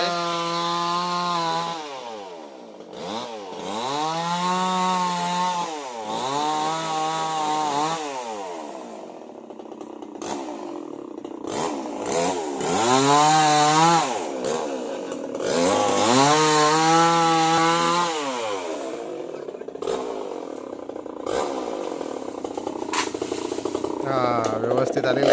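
A chainsaw cuts through a tree that fell onto a house during rainy-season weather in the Konkan, revving up and easing off in repeated bursts with brief pauses between cuts, while people talk nearby.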